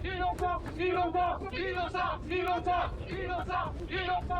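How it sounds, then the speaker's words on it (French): An indignant crowd outside the Nice courthouse shouting in repeated rhythmic bursts of chanting and yelling, loud and close, with voices rising and falling in waves. "devant le palais de justice de Nice, la foule crie son indignation"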